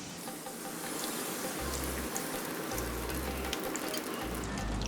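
Raisins sizzling in hot fat for Onam payasam, a dense crackling hiss that stays steady throughout, close with a faint low hum beneath and no talking.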